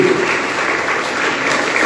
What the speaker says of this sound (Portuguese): Uma salva de palmas para o Senhor Jesus.